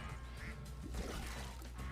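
A cartoon duck in a video game being made quacks a few times, short nasal calls that sit close and fairly clear over a low background hum.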